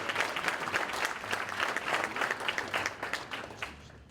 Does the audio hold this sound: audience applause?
yes